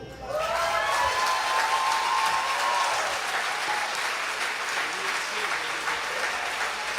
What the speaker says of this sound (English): Sam Stecher, one more round of applause, please.